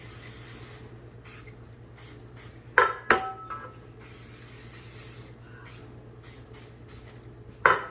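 Cooking spray is sprayed onto cake pans for a German chocolate cake, a few short hissing bursts with light clicks and knocks of the pans, close and without talk.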